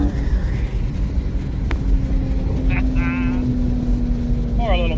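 A Dodge Challenger V6 accelerates from 0 to 60 while racing a Mustang GT, heard as a loud, steady engine drone with road rumble throughout. A voice briefly cuts in over the engine noise.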